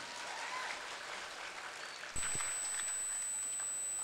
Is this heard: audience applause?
yes